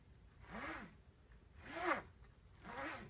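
A straight razor is drawn along a strop in three soft, steady back-and-forth laps, each a quiet swishing stroke with brief pauses between.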